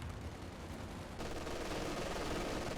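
Rapid anti-aircraft half-track gunfire in a Company of Heroes 2 battle, a dense automatic burst that grows louder and fuller partway through.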